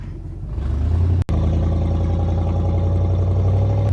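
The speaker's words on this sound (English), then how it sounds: "It's a little loud. It definitely has some, it needs new mufflers. It needs new exhaust from the manifold back, but it gets up and it goes." A 1968 Chevrolet Corvette C3 driving with a worn, leaky exhaust that needs new mufflers: a loud, steady V8 drone with a low rumble, held at an even pitch, with one very brief dropout before the noise resumes.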